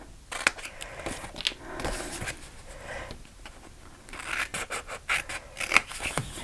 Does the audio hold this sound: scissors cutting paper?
yes